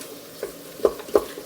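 A utensil scrapes the bottom of an Instant Pot holding cooking onions, garlic and carrots, three short soft scrapes over a quiet background hiss, close and unaccompanied by speech.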